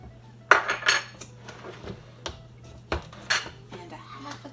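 A spoon clinks and scrapes in a bowl while brown sugar and cinnamon are mixed, giving several sharp metallic taps followed by softer stirring scrapes, close and moderately quiet.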